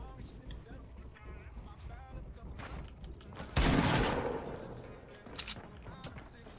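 Gunfire in a shooter video game: one loud shot lands mid-clip and its boom fades over a second, with scattered lighter shots around it under ongoing voice chat.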